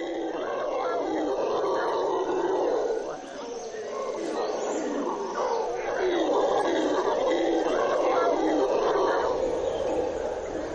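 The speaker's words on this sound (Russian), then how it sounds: "ревуны отпугивают их воем" Howler monkeys roaring in the rainforest of Serranía de la Macarena, Colombia: a dense, continuous chorus of deep roaring howls that stays loud throughout, with a brief dip near the start before swelling again.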